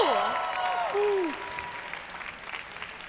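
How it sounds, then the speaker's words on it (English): Audience applause at the Eve of Nations cultural show after a models' showcase, a dense burst of clapping with cheering whoops over it, loudest at the start and easing off over a few seconds. "I get another round of applause for our beautiful models?"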